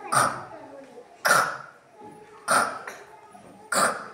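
Four short, harsh grunting bursts from a voice imitating a pig, spaced about a second apart, close and moderately loud.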